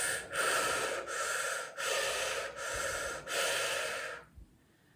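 Breathy air drawn in through the mouth during circular-breathing meditation, five long close inhalations in a steady rhythm with brief pauses between them, then a quiet stop; no talking.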